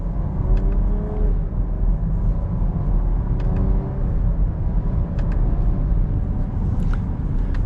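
Interior drive in a 2022 Jeep Grand Cherokee L Altitude 4x4: a low, steady engine hum and road rumble with faint whirring, fairly quiet and unbroken.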